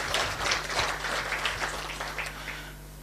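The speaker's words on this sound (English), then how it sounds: "A clap for her." Applause from a crowd at a Pan-African green climate financing event, a dense patter of many hands clapping at once, steady and then gradually thinning out, with a low hum underneath.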